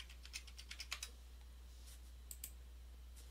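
Password keyed in on a computer keyboard during an Arch Linux install: faint, scattered clicks in a quick burst, then a few more keystrokes after a short gap, over a low steady hum.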